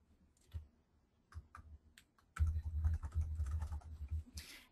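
Computer keyboard typing while entering data into a spatial data workspace on screen, starting as a few scattered keystrokes and then a dense, steady run of clicks, close and moderately loud with no talking.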